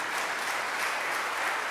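A church congregation claps for the Lord during a Spanish-language sermon, sustained even applause throughout with no speech over it.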